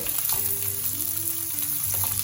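Onions cut into small petal shapes fry in a pan after capsicum for chilli fish, a brief, steady, close sizzle with faint tonal hum underneath.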